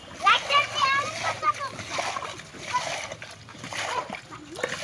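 Village boys drain water from a dammed river to catch fish, and the water splashes and sloshes loudly up close in uneven bursts while children's voices shout over it.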